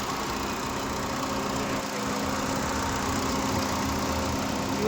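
A 2015 Maruti S-Cross diesel car idling with its engine exposed, a steady, even mid-low drone with a faint hum, close and unbroken throughout.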